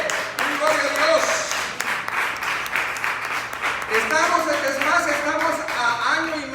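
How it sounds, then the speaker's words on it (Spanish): Church congregation applauding during a Spanish-language worship service, a steady dense wash of clapping over the whole stretch with voices and singing mixed in. "Denle un aplauso al Señor."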